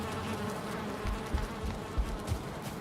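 Swarm of bees buzzing around beehives in Valheim, a steady droning hum filling the whole clip with a few soft low thumps beneath it and no talking.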